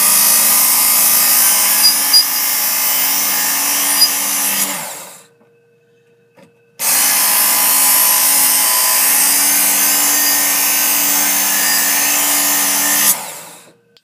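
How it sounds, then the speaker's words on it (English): A belt sharpener with a coarse belt grinds the edge of a Ghanaian sword blade: a loud, steady whining grind that stops for a short pause and then runs again, close, with no talking. "I'm just going to be running it through a whole lot of times with the coarse belt to try and get it down to an edge"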